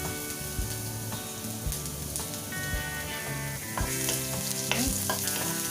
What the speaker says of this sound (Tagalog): Gigisahin natin ang ating chicken.